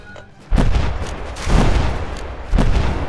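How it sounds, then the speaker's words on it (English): Artillery volley in a home-warfare video game: three heavy booming blasts about a second apart, each a loud low thump with a rumbling tail, no talking over them. "That's the artillery volley."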